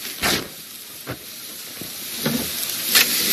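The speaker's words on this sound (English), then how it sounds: "Look at that sizzling." A hot sub sizzles on the grill at a Jersey Mike's counter: a steady, close hiss with a few sharp clatters of a spatula or utensils scattered through it.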